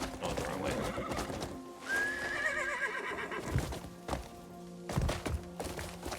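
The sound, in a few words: horse neighing in a video game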